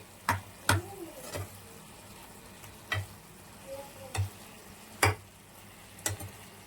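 Chicken pepper dry being stirred in a pan, with a spoon scraping and tapping in sharp, spaced strokes over a low steady sizzle.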